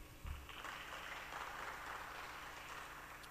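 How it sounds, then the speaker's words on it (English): A room full of listeners at the International Reggae Conference 2013 applauding, a faint, even wash of many hands clapping that holds steady throughout after a brief low thump at the start. "Let's give them another round of applause."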